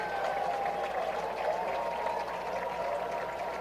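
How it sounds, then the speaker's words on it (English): Players and fans at a high school boys soccer match applaud each other, a steady wash of crowd clapping sustained throughout at a fairly even level, with a faint tone running beneath it. "as they come over to clap for the Wasatch fans, and Wasatch return it"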